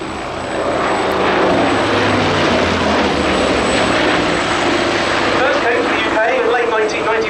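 Hawker Sea Fury piston-engine fighter flying at an airshow, a loud sustained propeller roar that swells and holds as it passes, with a commentator talking over it.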